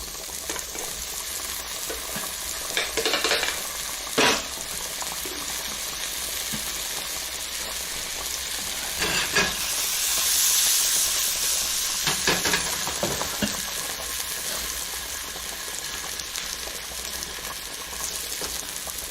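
Garlic sizzles steadily in a hot pan for shrimp scampi, a bright continuous frying hiss with occasional scraping stirs, close and unaccompanied by talk.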